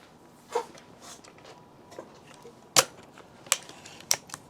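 A Umarex Ruger Impact Max Elite .22 air rifle fires several sharp, close shots at irregular intervals, each a crisp crack followed by faint mechanical handling noises in between.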